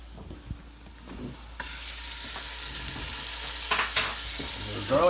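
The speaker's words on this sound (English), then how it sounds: "now we're gonna add our garlic" Chopped garlic hits a hot frying pan while making creamed spinach, and a loud, steady sizzle starts abruptly and continues close up, with a few stirring scrapes.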